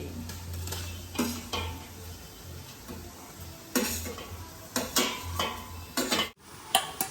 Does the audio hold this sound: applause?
no